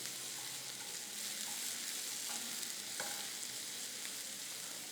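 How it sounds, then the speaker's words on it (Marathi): Chopped onion, garlic paste, fenugreek seeds and cumin frying in a pan, a steady close crackling sizzle with faint occasional stirring taps, no voices. "मेथी दाणे जिरं बारीक चिरलेला कांदा लसुणीची पेस्ट हे सगळं छान परतून घ्यायचं"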